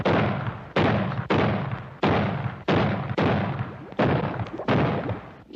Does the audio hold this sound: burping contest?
no